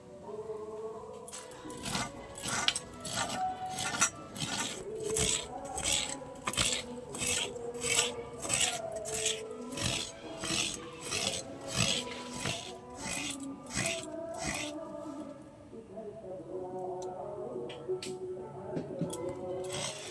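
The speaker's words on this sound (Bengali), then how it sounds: "তা আমি অর্ধেকটা নারকেল কুড়িয়ে নেবো, আমার আজকের রেসিপির জন্য অর্ধেকটাই লাগবে।" Half a coconut is grated by hand on a rasping grater, making fast, regular scraping strokes close by that pause briefly near the end, then resume more softly.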